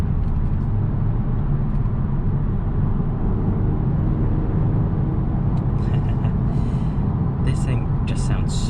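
A 2022 Genesis G70 with the 3.3 twin-turbo engine drives along, a loud, steady low engine rumble and road drone from inside the cabin, with brief higher noises near the end.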